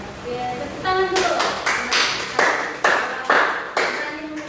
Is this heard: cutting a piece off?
no